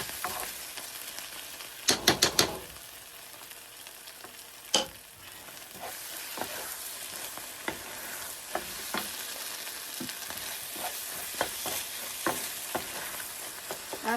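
Chili flakes are stirred into salted egg pasta with butter, garlic and bacon frying in a pan. A steady close sizzle runs throughout, broken by sharp utensil clacks and scraping strokes, with no talking.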